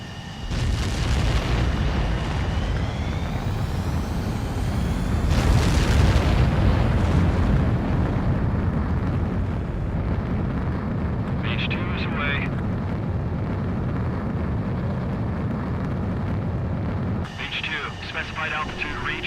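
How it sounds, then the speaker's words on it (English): A fighter jet taking off in the video game Ace Combat 7: Skies Unknown, a loud, sustained engine roar that swells as the aircraft launches, with radio voices talking over it. "Mage 2, begin takeoff sequence."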